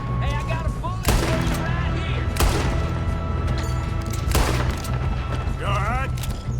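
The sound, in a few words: gunfire in Red Dead Redemption 2 video game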